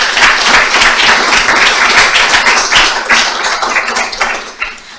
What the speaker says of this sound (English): So we'd really like to give them a round of applause.